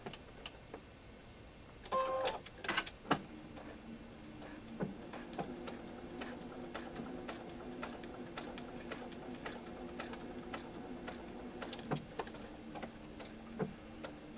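Sewing machine stitching a quilt, a faint, steady run of quick rhythmic ticks with a few louder clicks near the start.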